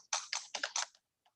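Rapid clicks on a computer keyboard come in a quick burst of about five crisp, close keystrokes, then a couple of faint taps trailing off into near silence.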